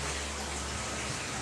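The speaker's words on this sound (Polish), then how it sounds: "A woda jest ciepła tutaj, w tym źródełku?" Water from a warm spring running steadily near Szczawnica, a constant close rush with no pauses and no voices over it.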